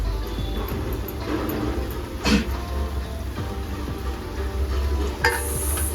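Potatoes frying in oil with turmeric for a Marathi-style potato bhaji, stirred with a spoon: a steady low sizzle with a scrape of the spoon near the middle and a brief clatter near the end, no talking.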